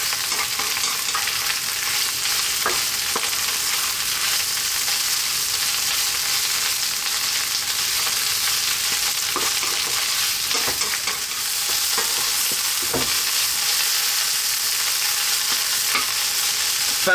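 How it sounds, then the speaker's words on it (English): Garlic, onions and spinach fry steadily in a pan, a constant loud sizzle broken by scattered scrapes and taps of stirring, close up with no talk. "About 4 minutes, frying away here. Keep it moving."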